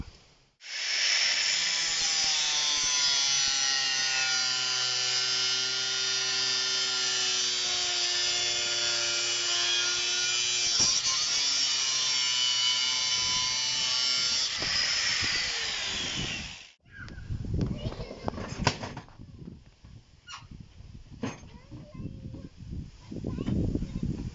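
A power tool trims back carpet in a campervan, whining loudly and steadily for about sixteen seconds. It stops abruptly and is followed by clattering handling noises and knocks.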